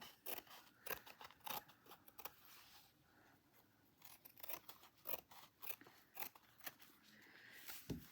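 Scissors trimming cross stitch fabric, a steady run of crisp snips, some in quick pairs with brief pauses between; close and quiet, with no talk.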